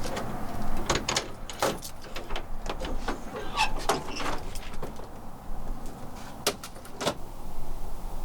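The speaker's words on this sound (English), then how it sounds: "let me go ahead and open up the trailer for you and let's take a peek" Door of a mobile detailing trailer being opened, heard as a string of metallic clunks, latch clicks and rattles at close range, with a faint outdoor background and no talking.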